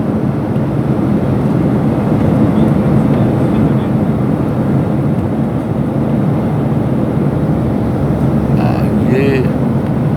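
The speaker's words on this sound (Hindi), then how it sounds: "बिल्कुल बहुत नीची उड़ान उड़ रहा है ये जहाज़।" Cabin drone of an airplane flying low over mountains near Srinagar and Jammu, heard from inside as a loud, steady, broadband engine roar that fills the whole stretch, with a faint brief voice near the end.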